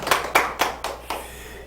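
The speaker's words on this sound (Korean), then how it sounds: "박수." Five distinct bursts of hand clapping from a small audience at a Korean lecture on counseling theories, each sharp and close, spaced about a quarter second apart, then fading out.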